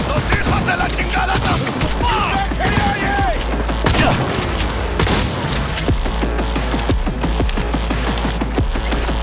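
Video game gunfire in Cyberpunk 2077: a dense, continuous barrage of shots and impacts mixed with shouting voices and in-game chaos, loud and unbroken throughout.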